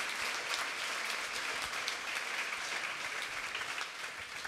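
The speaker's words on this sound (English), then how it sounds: "I wouldn't have got a round of applause talking about that 10 years ago." A fashion audience gives a round of applause, a broad, steady wash of many hands clapping that holds evenly throughout and eases slightly at the end, with no voices on top.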